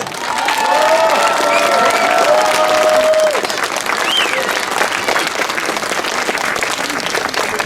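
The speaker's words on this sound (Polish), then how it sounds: "Wielkie brawa dla Was!" A crowd at an outdoor political protest in Koszalin, Poland, applauds and cheers loudly and continuously, with whistles and raised voices rising above the sustained clapping.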